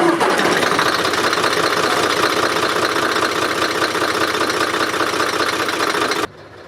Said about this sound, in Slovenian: je pognal motor